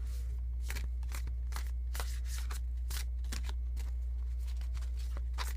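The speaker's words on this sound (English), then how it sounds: "I'll just start shuffling again" A deck of tarot cards is shuffled over and over, each riffle a crisp papery burst repeating in quick irregular succession, close and steady over a low hum with no talking.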